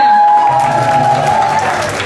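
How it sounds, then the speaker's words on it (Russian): Loud audience applause at a television awards ceremony fills the space with a steady wash of clapping and a sustained tonal hum underneath. "Ваши аплодисменты, дамы и господа"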